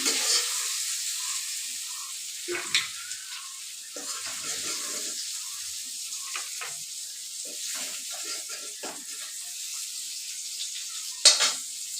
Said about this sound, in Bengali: আলু বেঙেনা ফ্ৰাই কৰা হৈ গ'ল এতিয়া মই আলুখিনি একদম নমাই ল'ম